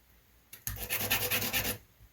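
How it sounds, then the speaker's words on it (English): A styrene piece for an HO scale crane wheel is sanded by hand in a quick run of about ten close, rhythmic rasping strokes that lasts just over a second. "A little more sanding."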